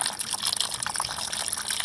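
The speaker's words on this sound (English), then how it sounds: "what I'm going to do is flush it out with some water" Water gushing and splashing steadily while flushing rust and corrosion out of the heater core of a 2000-2007 Ford Taurus, a continuous broadband rush with no talk.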